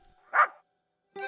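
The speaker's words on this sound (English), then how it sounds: "Suddenly, Boris heard the sound of barking in the distance." A single dog bark in a children's cartoon rings out at moderate loudness, followed by a brief gap before a voice begins.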